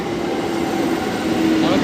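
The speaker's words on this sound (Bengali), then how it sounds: "আমাদের ট্রেন ঢুকে গেছে, লোকাল ঢুকে গেছে আমাদের খড়গপুর লোকাল" A Kharagpur local train pulls into a station with a loud, steady rumble and a sustained metallic rail hum that holds for the full stretch, then cuts off abruptly.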